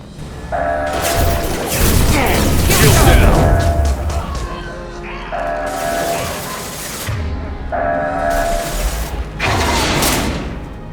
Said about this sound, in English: Get to the console and close that shutter before they can get through.